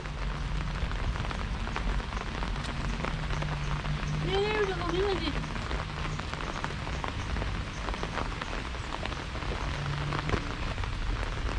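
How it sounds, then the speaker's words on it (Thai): Dense, steady heavy rain from a storm pours down at an ancient temple site in Ayutthaya, Thailand, hissing on surfaces throughout, with a faint tonal wobble briefly rising through the middle. "ฝนนี่น่าจะแรงขึ้นนะ"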